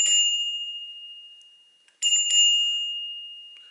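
A press-down bicycle bell rings twice, two bright, close metallic dings, each decaying into a long clear ring, heard alone with no talk.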